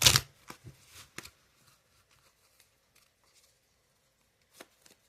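Tarot cards are shuffled close by in a few quick riffling bursts at the start, followed by faint scattered taps and another short riffle near the end, with no speech.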